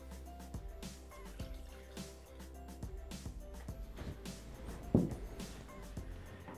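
Water pours into a Thermomix bowl over chicken pieces, pine nuts and soaked sultanas for chicken marsala, heard as soft splashing and dripping with a louder splash midway, quiet and close.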